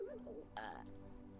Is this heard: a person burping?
yes